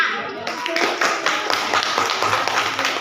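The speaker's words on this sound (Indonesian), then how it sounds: "terima kasih tepuk tangan untuk kelompok 6." A group of students in a school class claps for their group, a burst of close, overlapping hand claps that starts after a short pause and keeps a loose, steady patter to the end.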